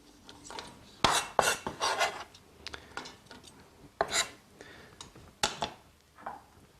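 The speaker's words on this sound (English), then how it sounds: "Put them in a pot." Chopped onion, parsley and other vegetables for Moroccan harira tumbling into a cooking pot, several scattered clattering drops and rustles close by, with quiet gaps between.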